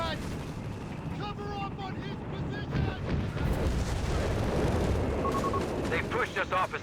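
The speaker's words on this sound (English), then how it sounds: "Artillery fire there again from the captain." Artillery shells and explosions rumble through a Company of Heroes 3 match, a steady booming barrage with sharper impacts, heard under continuous commentary from a talking voice.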